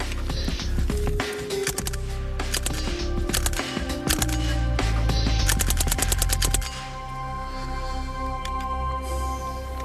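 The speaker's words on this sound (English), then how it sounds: "the bulk of the noise you heard was the bullet impacting on that steel plate" A rapid burst of sharp metallic impacts as bullets from a suppressed submachine gun ring off a steel plate, several quick strings of hits over a few seconds, then a lingering metallic hum.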